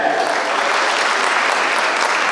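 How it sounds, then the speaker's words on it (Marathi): A large audience at a Marathi literary conference breaks into loud, sustained applause, a dense steady roar of clapping with no break throughout. "त्यांच्यासाठी एकदा जोरदार टाळ्या."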